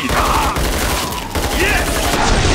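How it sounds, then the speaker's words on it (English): Heavy, loud bursts of gunfire in Killing Floor 2 on Hard difficulty, with dense overlapping shots and rattling fire, and a brief voice line in the mix. "Shooting them is almost too easy."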